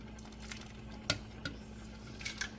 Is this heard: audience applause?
no